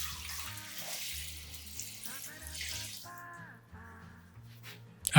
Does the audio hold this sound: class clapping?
no